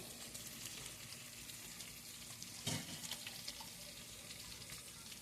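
Chicken curry for biryani fries in a pot with a steady, soft sizzle and bubbling, fairly faint and continuous, with one brief louder burst near the middle.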